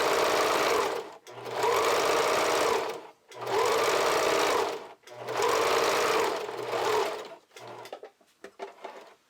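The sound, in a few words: sewing machine sewing elastic on kids' underwear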